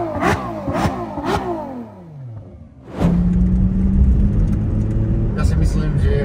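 A Ferrari 812 GTS with a V12 engine revving in a few quick blips, then a loud roar as it pulls away and holds a steady drone; someone talks over it.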